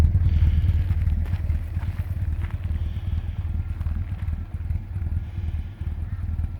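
A 1967 Alfa Romeo Giulia Super engine idles up close with a loud, steady, low burble that pulses continuously throughout.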